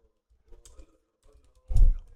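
A few soft keystrokes on a computer keyboard, then a short louder cluster of taps, close and brief with no talking.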